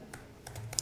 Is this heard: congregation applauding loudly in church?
no